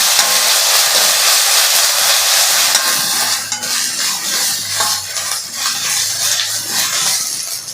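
Homemade ginger-garlic paste sautéing in a hot pan for goat blood stir-fry, a steady close, loud sizzle and hiss that softens after a few seconds, with faint stirring scrapes underneath.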